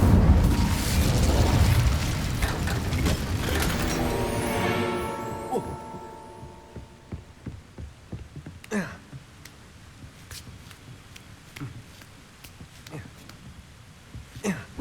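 An Incendio fire spell erupts in Hogwarts Legacy: a loud, booming burst that rumbles for several seconds and slowly fades, followed by a quieter stretch with scattered sharp pops and thuds.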